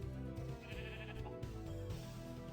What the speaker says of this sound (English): I've got to get rid of these sheep.